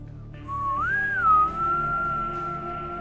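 One person whistles a single sustained melodic line from a Destiny 2 soundtrack, a clear close tone that rises, dips and then holds steady for a couple of seconds over a faint background hum.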